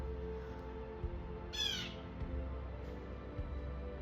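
A single bird call rings out briefly over a low, steady outdoor hum, with a fainter chirp shortly after.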